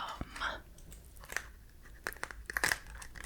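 Close, wet chewing of Trident gum with soft crunchy bites and clicks in an irregular rhythm, intimate and quiet with no talking.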